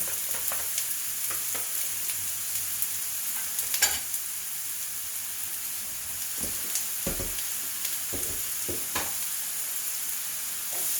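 A small amount of chopped purple onion fries in a hot pan, producing a continuous soft sizzle broken by intermittent sharp crackles and stirring scrapes, close up with no voices.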